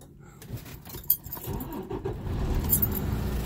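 A truck engine is cranked and started in the cab during a CDL pre-trip check, with a clutch pressed and the gearbox in neutral: a brief clatter and starter whir, then a steady low engine rumble settling into idle.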